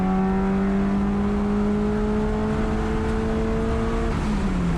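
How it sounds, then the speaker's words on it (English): A Mitsubishi Evolution race car at Thunder Hill East drones along with a steady engine whine. The pitch holds near level, then dips near the end, loud and constant with wind noise. "Get on the brakes to get it in, then roll back onto the gas as you come out of the corner"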